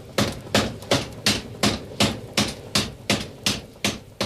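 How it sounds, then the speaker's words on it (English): A forge hammer pounds heated metal shaped by swaging tools, about eleven sharp, even blows in a steady rhythm, each ringing briefly before the next, loud and close with no voices. "the heated metal is placed under a hammer"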